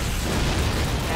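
Tank explosion in Call of Duty: United Offensive's American campaign, a loud, dense burst of blast and rumbling debris filling the whole short moment, with battle noise crowding around it.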